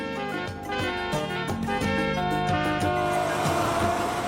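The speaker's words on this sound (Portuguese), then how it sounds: "Caminhões cruzam as colinas de Jebel Elti, transportando calcário para cal." Trucks hauling limestone across the desert hills of Jebel Elti in Sinai, a loud, steady engine drone with shifting rumbling tones and a sustained roar.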